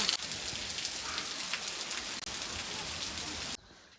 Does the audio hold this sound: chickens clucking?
no